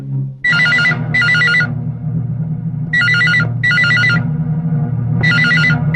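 A telephone rings after a call is placed: an electronic warbling ring sounds in paired bursts three times, loud and close, over a low steady hum with no talk.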